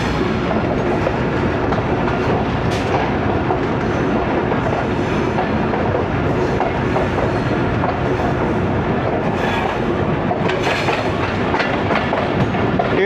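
A Pakistani passenger train rolls steadily along the tracks on a curve on the Shekhupura–Shorkot branch line, loud and close, with continuous rumbling and rhythmic clacking of wheels over rail joints.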